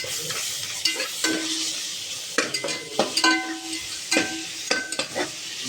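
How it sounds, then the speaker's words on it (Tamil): Onions golden-browned in a pot for vegetable biryani sizzle steadily with ginger garlic paste added, with spoon stirring scrapes and occasional metal clinks recurring throughout, close and fairly loud. "வெங்காயம் நல்லா கோல்டன் ப்ரௌனில் வதங்கிருச்சு. இது கூட இஞ்சி பூண்டு விழுது"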